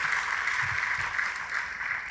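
A church congregation applauds in a steady, dense wash of clapping that holds evenly throughout at moderate distance.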